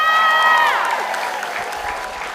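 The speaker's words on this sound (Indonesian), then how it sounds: "Tepuk tangan sekali lagi untuk Yana." Studio audience applause on an Indonesian TV game show, a loud, dense wash of clapping that swells briefly and then holds steady, with a bright synthesized musical sting gliding downward over the first second.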